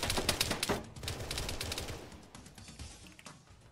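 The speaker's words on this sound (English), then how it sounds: "They just shot!" Rapid gunfire in an Arma 3 Halo-mod firefight, a dense burst of close automatic shots in the first second, then continuing scattered shots that thin out and fade toward the end.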